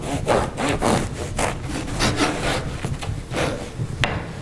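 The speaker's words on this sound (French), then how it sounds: "avec du bon pain comme ça, il vaut mieux avoir un bon couteau à pain" A serrated bread knife saws through crusty country bread in loud, close, rasping back-and-forth strokes that repeat steadily, with no talking.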